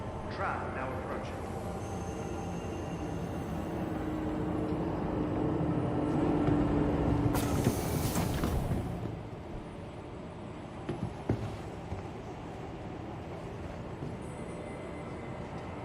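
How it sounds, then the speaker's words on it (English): A tram in the Star Citizen video game rolls in, a rising mechanical rumble and whine that builds to a peak, then fades with a brief hiss, while a person talks over it. "Tram now approaching."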